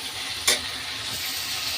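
Onion, green chili and tomato sizzle steadily in a pan on a gas stove, with a single sharp clink near the start over the constant frying hiss.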